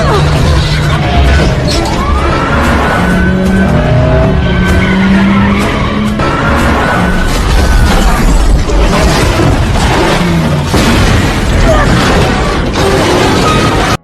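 Loud, continuous engine roar with repeated screeching tire skids and occasional crashing impacts, a chaotic high-speed police car chase ending in a car flipping over, with some voices mixed in.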